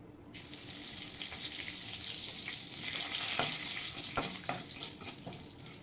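Cumin seeds, bay leaf and dried chilli sizzle in hot oil as a tempering for malai chicken, a steady bright crackle with a few sharper pops near the end, close and alone with no talk.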